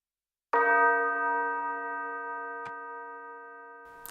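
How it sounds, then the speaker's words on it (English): A single bright tubular bell strike in a trap beat rings out and sustains with a long, slowly fading metallic tone, faint ticks punctuating the decay. "I added a tubular bell, even though I know they don't use tubular bells in trap anymore"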